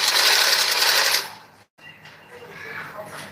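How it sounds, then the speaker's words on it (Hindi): Sewing machine stitching blouse fabric, a loud steady whir running for about a second before stopping, followed by a quieter pause with someone speaking. "बिल्कुल बराबर करके सिलाई लगानी है।"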